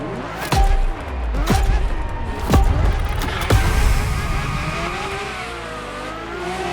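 A Ferrari F50 supercar in The Crew Motorfest racing game, its engine revving hard through several sharp upshifts, each gear change a brief dip before the howling pitch climbs again, loud and close.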